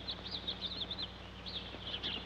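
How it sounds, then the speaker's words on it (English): Sparrows chirping in a series of short, bright high-pitched calls, fairly close, over a steady low background hum with no talking. "Aren't they the famous swallows of Capistrano? Sparrows."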